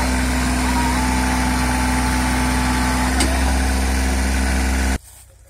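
A Kubota 2441 tractor engine idles close by with a steady, droning hum for about five seconds, then cuts out abruptly, leaving quiet background.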